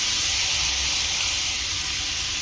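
Vegetables frying in hot oil in a kadai with bay leaf, dried red chili and cumin, giving a continuous loud bright sizzle and hiss with no talking.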